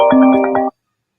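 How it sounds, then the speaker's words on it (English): A phone ringtone plays a short, loud melodic burst of steady tones for under a second, then cuts off into silence. "Phone booming."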